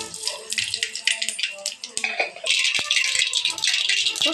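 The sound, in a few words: mustard seeds spluttering in hot frying oil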